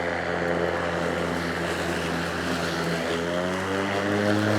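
A Ryobi 40V cordless cross-cut lawn mower's electric motor hums continuously with a rising pitch toward the end as it revs up under load.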